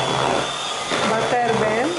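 An electric mixer whips vegan cream for a cold coffee cake, a steady motor whir running throughout with someone talking over it.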